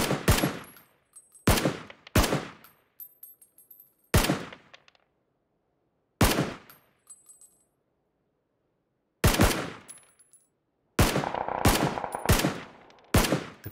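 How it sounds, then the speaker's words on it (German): Automatic gunfire from the video game PUBG comes in sharp, loud bursts separated by short silences, ending with a rapid cluster of shots. "keine Ahnung, ob meine Schüsse überhaupt ankommen auf die Entfernung"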